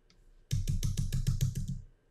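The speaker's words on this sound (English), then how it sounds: "start typing." Rapid keystrokes on a computer keyboard, about eight even clicks in quick succession, close and fairly loud after a brief quiet start, with no talking.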